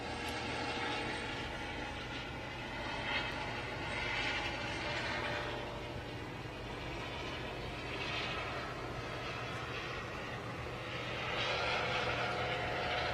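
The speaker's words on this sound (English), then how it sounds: "you can hear the helicopter overhead." A steady mechanical rumble of a helicopter overhead drones throughout, swelling and fading slightly as it passes, at a SpaceX crew launch near pad 39A.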